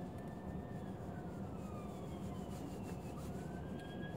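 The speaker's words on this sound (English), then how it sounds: "You can hear the sirens." Distant sirens on a rainy day in the Bay Area, thin wavering wails gliding up and down, faint under a steady background hiss, with no voices.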